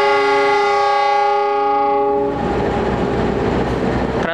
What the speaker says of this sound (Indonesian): ini dia rangkaian kereta api Argo Lawu menggunakan rangkaian stainless steel